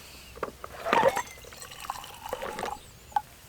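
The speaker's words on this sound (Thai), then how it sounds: "แล้วก็กดน้ำร้อนครับ" Hot water is pressed from a dispenser onto fish mint herbal tea, giving a soft pour and splash with a few faint drips, close and fairly quiet.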